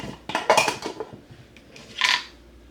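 A metal Dutch oven is handled in a home kitchen while farmer's cheese is being made, giving several close clanks and scrapes followed by one louder ring near the end, with no talking.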